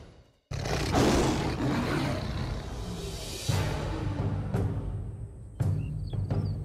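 A lion of an East African pride roars in the dry season, deep, drawn-out calls repeating and loud close up, with sharp breaks between them.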